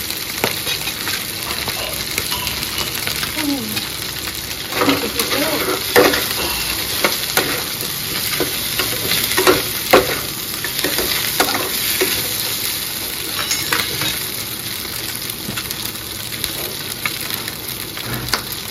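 Onion fries loudly in a pan with a dense, steady sizzle, while a spatula scrapes and stirs it in a loose, repeated rhythm.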